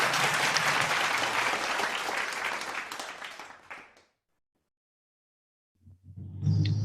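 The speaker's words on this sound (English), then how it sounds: "Let us give him a virtual round of applause." A crowd's applause at a morning devotion gathering, dense steady clapping that fades out over about four seconds into silence, followed by a brief low rumble at the end.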